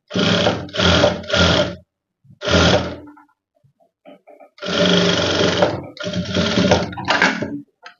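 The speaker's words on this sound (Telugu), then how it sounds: "ఇప్పుడు మనం దీనికి పై కుట్టేసుకోవాలి" Sewing machine stitching fabric in loud close bursts: three quick runs, a pause, a single run, then two longer runs with soft clicks between them.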